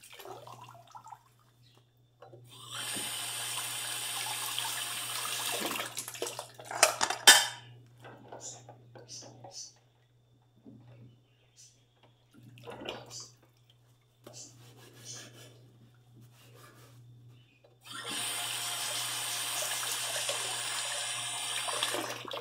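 Dishes being washed at a kitchen sink: bursts of running tap water alternate with clattering plates, clinking cutlery and scattered knocks, with quieter gaps between, all close by, under a steady low hum, with no voices.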